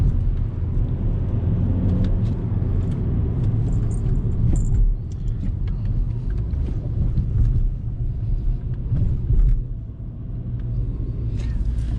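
Inside a VW Jetta moving slowly, a steady low rumble of road and engine noise fills the cabin, fairly loud and continuous with a few faint rattles and no talking.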